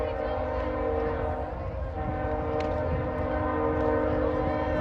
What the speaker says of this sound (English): Another little short local freight train going by at speed.